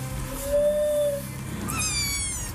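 A cat gives a drawn-out, rising meow, then a second higher, strained meow after a short pause, heard close over a steady background hum and room noise.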